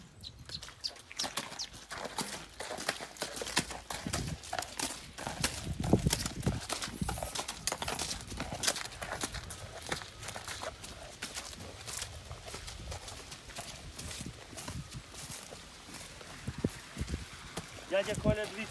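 Continuous irregular hoof clopping from draft horses and mares moving nearby in the Kolomyia area, mixed with rustling and people talking throughout.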